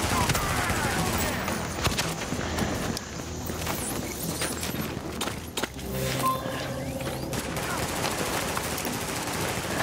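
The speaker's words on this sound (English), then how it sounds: "And somebody's here to shoot at us." Rapid gunfire fills a firefight in The Division's Dark Zone, dense overlapping bursts with scattered sharp cracks and background game noise throughout.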